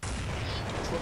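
Gunfire in Counter-Strike 1.6 comes as a loud, dense burst of shot noise that fills the whole moment without pause.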